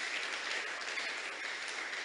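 Faint, distant applause from a church congregation, a soft continuous wash of clapping with no voices over it.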